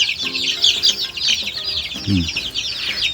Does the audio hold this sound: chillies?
no